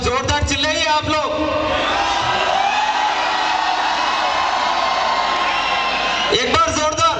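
A live band event crowd at a college festival roars with sustained shouting, whooping and cheering, loud and dense, with a voice on the microphone at the start and end.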